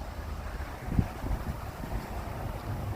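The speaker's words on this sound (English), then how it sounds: "It's a little windy down here and stuff." Wind gusts outdoors near parked trucks and cars on a mild day, a low rumbling buffet against the microphone with a soft steady roar and a brief thump, no voices.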